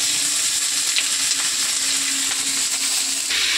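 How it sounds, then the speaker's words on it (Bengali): Chopped potatoes fry in hot oil, making a steady bright hiss and sizzle that runs unbroken for a few seconds without any talk. "আমি তেলে আলু ভাজাটা দিয়ে দেবো।"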